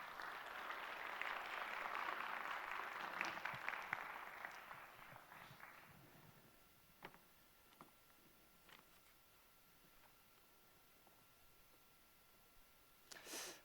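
Church chapel congregation applauding to welcome a pastor, a sustained burst of clapping that fades after about six seconds into scattered faint taps and quiet room noise, with a brief rustle at the end.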